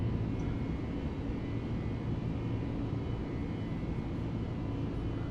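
A Jetstar airliner in Microsoft Flight Simulator 2020 flying from Ballina to Sydney, its engines giving a steady, dense, low roar that stays constant throughout with no talk.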